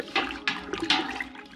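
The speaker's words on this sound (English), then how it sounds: "I might top the water up just a little bit" Water is poured into a pot to top up an extract beer brew, heard as short close gushing splashes in quick bursts over about a second and a half.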